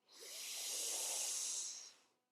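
One slow, deep inward breath drawn close to the microphone, airy and sustained for about two seconds before tapering off.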